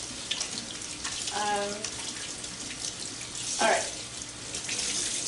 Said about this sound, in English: Let me rinse off my hands really quick.